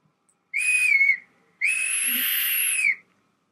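A high, steady whistling tone from a vape dripper atomizer with a nickel coil, in two bursts, a short one followed by a longer sustained one, loud and close.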